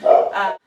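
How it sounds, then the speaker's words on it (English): A small dog's excited bark, one short sharp yelp running straight into a second higher yip, close and fairly loud, then silence. "You might hear my dog Copper barking."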